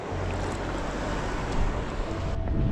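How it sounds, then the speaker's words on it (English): Gusty wind blasts across the microphone outdoors during a kick-scooter ride across the UK, a continuous heavy rumble rising slightly in the middle. "Windy, so"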